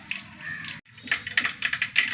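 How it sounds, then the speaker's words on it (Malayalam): Irregular sharp pops and crackles from mustard seeds bursting in hot oil, faint, scattered unevenly across a quiet background. "കടുക് പൊട്ടട്ടെ"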